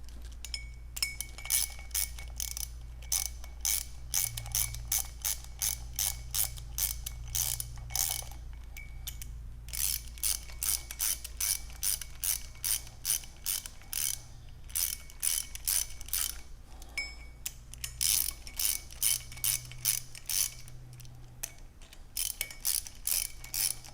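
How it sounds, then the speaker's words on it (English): Regulator bolts on a Model 461-57S regulator being tightened in a star pattern during a rebuild, heard as bursts of rapid metallic ratchet clicks with short pauses between each bolt, close and fairly loud. "Again, 8 bolts, and again use a star pattern to tighten them."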